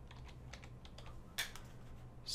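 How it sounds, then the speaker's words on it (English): Quick keystrokes as a password is typed on a computer keyboard, a run of soft, close taps over steady low hum, with a sharper click near the middle and another at the end. "I need to type in my password."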